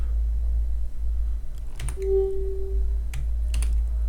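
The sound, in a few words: typing a keyboard shortcut on a computer keyboard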